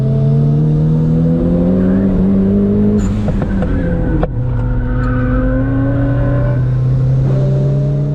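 A turbocharged Mazda Miata races on a track chasing an R32 Nissan GTR, its engine loud and close as it climbs through the revs, with a brief shift dip midway and steady wind and tire roar.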